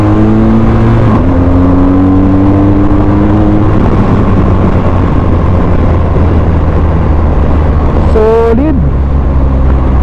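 A 2023 BMW R 1250 GS Trophy adventure motorcycle is ridden with a loud, continuous engine drone under heavy road and wind rush, its pitch holding steady before briefly sliding near the end.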